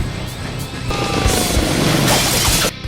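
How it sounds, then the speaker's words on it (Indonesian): Helicopter losing control in a blizzard whiteout and crashing onto a prison roof: a loud, dense roar of rotor and engine noise with grinding, crashing bursts throughout, cutting off abruptly near the end. "helikopter tersebut kehilangan kendali dan akhirnya jatuh menghantam atap penjara"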